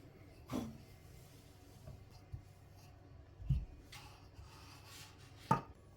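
A knife cuts rolled-out curd dough into rectangles on a floured table, a few sharp isolated chops spaced apart in a quiet kitchen.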